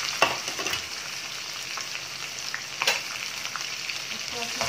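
Garlic fries in a pan of hot oil with a pinch of asafoetida for a potato and eggplant curry: a continuous crackling sizzle with occasional louder pops and stirring scrapes, close and steady.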